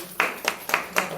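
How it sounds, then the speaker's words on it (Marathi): Short bursts of audience applause at a religious discourse for a samadhi anniversary, four quick rhythmic waves of clapping in a little over a second, with no voice over them. "टाळ्या नको मला."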